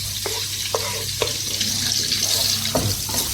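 Garlic frying in melting butter in a pan makes a steady, close hiss and crackle, broken by a few light taps and scrapes of a utensil against the pan.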